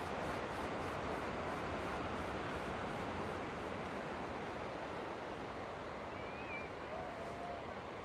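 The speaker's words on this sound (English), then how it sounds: "Take in the sound of the ocean here." Ocean waves wash in a constant broadband roar of surf, steady and enveloping with no distinct breaks, moderately loud, with no voices.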